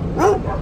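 A dog gives a single short, high whimpering yip, close and fairly loud against faint background noise.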